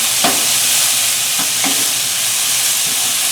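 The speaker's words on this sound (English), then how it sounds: "I'm going to saute this around with the onion" Finely minced garlic and onion saute in a hot pan, a steady loud sizzle with a few faint stirring scrapes close by, no voices.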